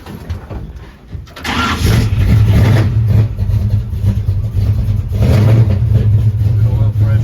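A 1954 Chevy truck with headers and a Flowmaster-style knockoff exhaust cranks and fires, then settles into a loud, deep, rumbling idle with a slight rev swell partway through, close by.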